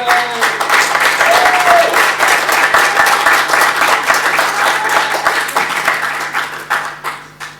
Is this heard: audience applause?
yes